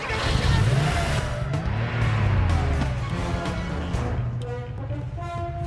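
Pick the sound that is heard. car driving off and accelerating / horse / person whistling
car driving off and accelerating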